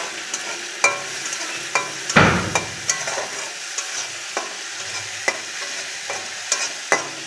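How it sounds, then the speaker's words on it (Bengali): Ground cumin, chili and turmeric fry with paneer masala as a spatula knocks and scrapes the pan in regular strokes over a soft sizzle, one louder clatter early on, no speech. "দেখুন জিরের গুঁড়ো, লঙ্কার গুঁড়ো, হলুদের গুঁড়ো দিয়ে আমি ভালো করে কষিয়ে নেব।"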